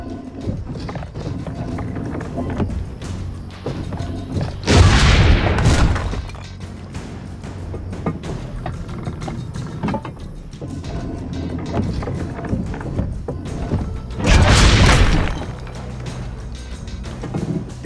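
Cannon fire at target dummies in Assassin's Creed Brotherhood, two loud booming blasts several seconds apart, each with a broad burst and short decay, over a background of busy ambient game noise.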